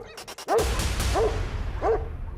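Dog barking near a road in Colombia amid reports of dog attacks on vehicles, three sharp barks spaced about evenly over steady traffic noise, close and loud.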